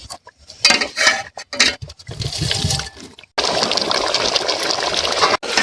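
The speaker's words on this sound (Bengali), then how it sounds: "এইবার আমি জল ঢেলে দিচ্ছি" A few clinks and a short pour lead into a loud, steady rush of water into a pot of country chicken curry, continuing until near the end.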